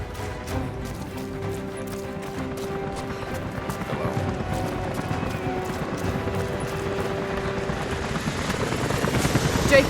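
Helicopters approaching in the video game Rise of the Tomb Raider, a rapid rotor chop pulsing steadily and growing louder and closer over ten seconds, with a low drone rising beneath it.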